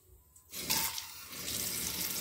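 Silence gives way to a tap turning on, water running steadily and splashing into a cup close by.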